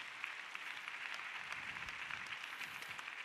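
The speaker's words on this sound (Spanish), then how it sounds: "Denle un aplauso fuerte al Señor Jesucristo, hermanos amados" A church congregation at a Sunday school service applauds with steady, dense clapping that fills the room at a fairly even level, with no speech over it.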